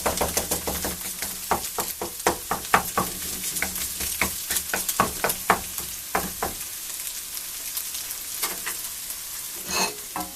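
Egg frying in oil in a pan while a spatula chops it into small crumbs, with steady close sizzling broken by repeated sharp scraping taps against the pan, no voices.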